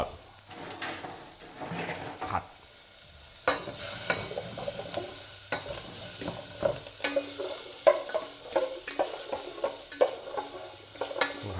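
Onions stir-frying in a pan for Japanese curry, with a hissing sizzle and repeated scraping, knocking spatula strokes against the pan in an uneven rhythm, close and without talk.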